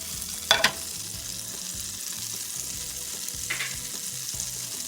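Smashed garlic frying in butter in a pan makes a quiet, even sizzle, with a brief clatter near the start and a softer scrape later, and a low hum beneath; no voices.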